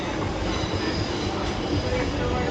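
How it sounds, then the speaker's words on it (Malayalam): A metro train rumbles through Kashmere Gate station in Delhi, a dense, steady roar of wheels and motors filling the platform, loud and continuous throughout the short stretch. "ഇപ്പോൾ ഉള്ളത് കശ്മീരി ഗേറ്റ് മെട്രോ സ്റ്റേഷൻ"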